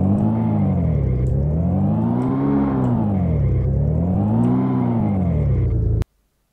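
A car engine from a Unity video game prefab drones with a synthetic, looping hum that rises and falls in pitch in smooth waves, steady and loud, then cuts off abruptly near the end.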